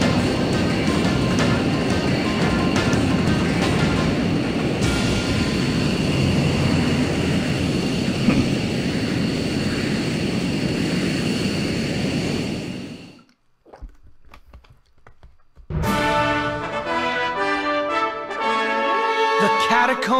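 A fighter jet roars past in the video game Little Battlers Experience, a loud sustained rushing whoosh that drops out suddenly, leaving near silence before bright game music comes in.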